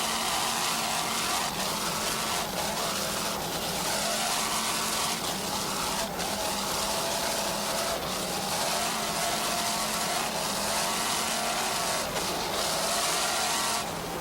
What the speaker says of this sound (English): Let's listen to those two 700 horsepower MRD inboards.